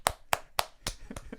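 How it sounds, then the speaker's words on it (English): A few sharp, separate hand claps ring out close by at a slow, even pace, in the style of Nicole Kidman's famously awkward clapping, followed by quieter, smaller taps. "Nicole Kidman clap,"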